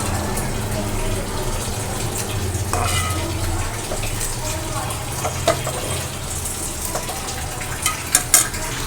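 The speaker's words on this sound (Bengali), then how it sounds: "বেরেস্তাটা করছি" Sliced onions fry in hot oil for biryani with a steady, close sizzle that fills the whole stretch, broken by a few clinks of a stirring utensil near the end.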